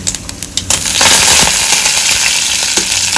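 Curry leaves hit hot oil for tempering a brinjal kadaiyal, first crackling in sharp pops and then bursting into a loud, sustained sizzle that stays close and steady, with no talking.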